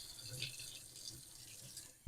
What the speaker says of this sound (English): Just turn on the cool water,